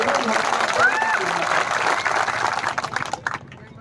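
Audience applause at a Mewat gathering where a speaker addresses the crowd, a steady dense wash of clapping that holds for several seconds and thins toward the end, with faint voices mixed in.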